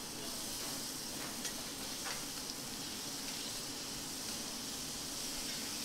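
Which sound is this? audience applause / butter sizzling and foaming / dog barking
butter sizzling and foaming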